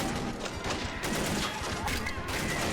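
Rapid gunfire from a BAR rifle in an Army Men war video game, a dense continuous rattle of shots that fills the whole stretch at a steady, fairly loud level with no talk over it.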